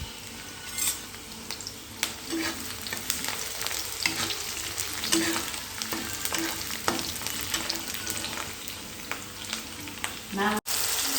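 Tomato rice fries in a pan with a continuous close sizzle, while a utensil stirs and scrapes against the metal in irregular clatters throughout.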